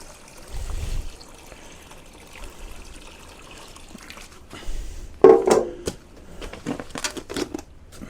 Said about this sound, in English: Then we'll add some water.